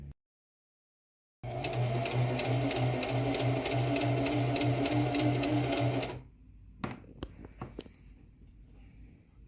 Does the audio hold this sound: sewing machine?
yes